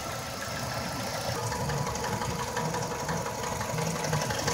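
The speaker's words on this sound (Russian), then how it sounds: "Вот ровно на 11-й минуте мотор начал стучать плавно. Стучит в районе привода ГРМ." Nissan X-Trail engine with a timing chain knock after warm-up, running steadily with a continuous rhythmic ticking knock close by, no talking.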